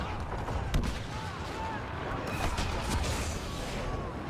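Blaster fire and explosions in the Star Wars Battlefront video game, a busy battlefield of distant and nearer shots with scattered sharp bursts, while a player talks over the action.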